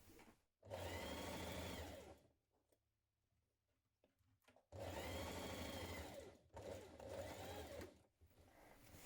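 A sewing machine stitching a jumpsuit seam runs in two long, steady bursts of rapid whirring stitches, close and loud, separated by a quiet pause with faint handling noises.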